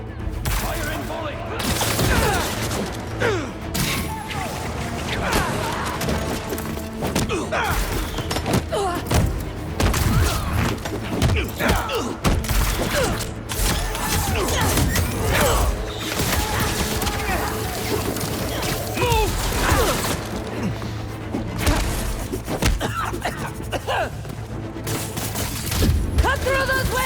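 A clattering volley of gunfire from soldiers in Marvel's Spider-Man 2 video game crackles amid thumps and mechanical noise, layered with shouting voices and game sound effects throughout.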